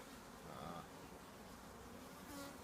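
Honey bees hum around an open hive during a check, a faint continuous buzzing drone at low level with no talk over it.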